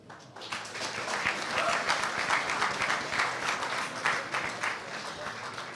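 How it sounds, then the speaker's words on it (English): A talk show audience breaks into applause that swells quickly and holds steady, many hands clapping together in a continuous, moderately distant roar. "Give him another big round of applause, ladies and gentlemen."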